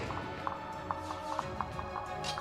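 Horse hooves clip-clopping in the video game Fire Emblem Fates, a light, evenly spaced run of hoof taps over soft game background sound.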